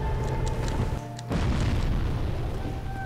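A deep, booming explosion in the video game Dark Souls, set during a boss fight in a dark forest. Sustained low rumble fills the scene, with a brief dip before the blast swells again.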